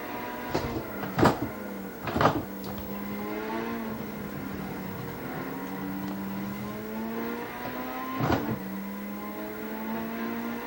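A 380-horsepower car racing in a video game, its engine note climbing steadily through the gears with a few sharp clunks and bumps along the way, heard alone without talk.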